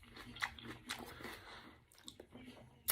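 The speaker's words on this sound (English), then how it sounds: "I know y'all like that crunch." Crunchy food bitten and chewed very close to the microphone, sharp crunches at irregular moments amid moist chewing, with faint talking in between.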